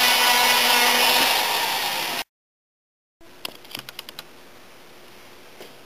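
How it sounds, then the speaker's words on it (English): A spiral sandpaper roll on a mandrel, run wide open, grinds and smooths out an engine port with a loud steady abrasive whir, cuts off to silence, then returns as quieter grinding broken by a few sharp ticks and scrapes. "I like to run these mandrels wide open and just start knocking it down."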